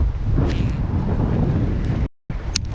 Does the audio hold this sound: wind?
yes